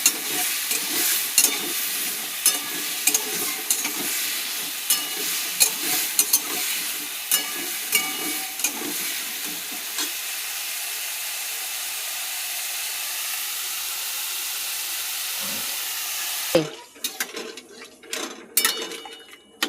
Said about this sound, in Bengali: আমি তরকারিটা নেড়ে ছেড়ে জল দিয়ে দিলাম।